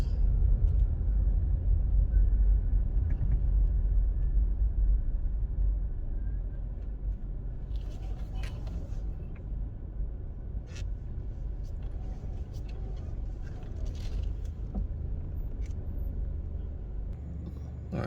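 A car driving slowly through the Devon House grounds, with a steady low engine and road rumble heard from inside the cabin, slightly louder at first and then constant, with faint clicks and no talk.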